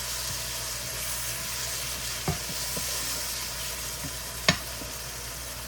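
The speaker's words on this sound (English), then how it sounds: "I'm going to drop another teaspoon of minced garlic in there" Minced garlic sizzling with mushrooms in a pan, a soft continuous frying hiss at moderate distance with a few sparse utensil clicks, no talk.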